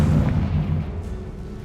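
A Confringo spell explodes in the video game Hogwarts Legacy, a single deep, loud boom that rumbles heavily and then fades out over a second or so, with no voices.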